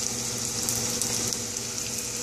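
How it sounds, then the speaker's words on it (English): Soft, continuous sizzling and bubbling of cream cheese wontons frying in oil, even and unbroken, heard up close at low volume. "There's the first batch in. Sizzling away."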